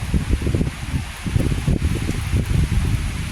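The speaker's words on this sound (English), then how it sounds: "I love watching them blow in the wind" Leaves rustle steadily in gusting wind, a dense, close, continuous swish with no voices.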